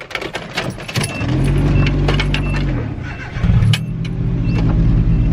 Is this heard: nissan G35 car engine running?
yes